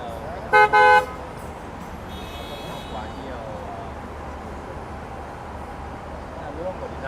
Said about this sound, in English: The traffic is quite busy